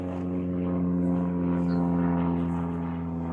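A propeller airplane drones steadily overhead near a hilltop tower in South Harting, a loud, constant engine hum that holds evenly throughout with no other sounds on top.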